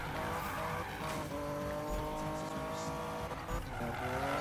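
Car drifting in Need for Speed 2016 with a loud, sustained engine roar and continuous tire squeal that rises and falls through the slide, close and constant throughout.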